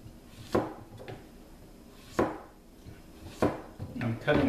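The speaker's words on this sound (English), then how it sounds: "I'm cutting the zucchini about an eighth of an inch thickness" A knife cutting zucchini into thin eighth-inch slices for chips, with four distinct chopping strikes on a board spaced about a second or more apart, fairly close against a quiet background.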